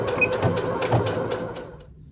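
A sewing machine top stitching close to the edge of a fabric scrunchie, a steady mechanical whir running continuously for about two seconds before trailing off into quiet.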